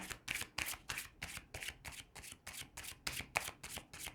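Tarot cards are shuffled in a steady run of about a dozen quick riffling bursts, close and fairly soft, with no voices.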